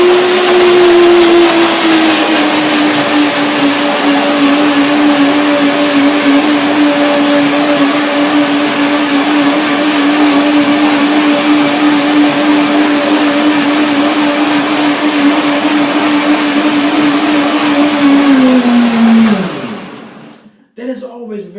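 A blender whirs through bananas and cashews for a raw vegan carob mousse, a loud, steady motor drone held for nearly twenty seconds before the pitch sags and it winds down to a stop, followed by a few faint knocks.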